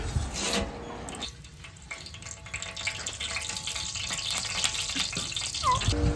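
Whole spices such as cinnamon, cloves, cardamom, cumin and pepper frying in ghee and oil for ghee rice, with a steady close sizzle and scraping stirs running under it.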